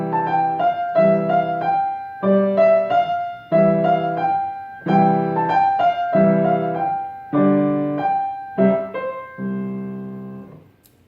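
The nursery melody London Bridge Is Falling Down plays on a clean keyboard-like instrument, alone and clear, in distinct repeated phrases of sustained notes and chords with short pauses between.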